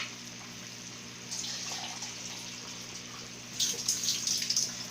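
Water poured into a pot of pork ribs sinigang with white onion and green chili, a steady liquid splash that swells in two stages, growing louder and brighter near the end, with no talk.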